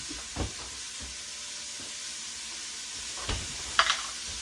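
Bacon grease sizzles in a frying pan for a pirate stew, a faint steady hiss with a few soft knocks and one brief sharp clink near the end, close by and with no voices.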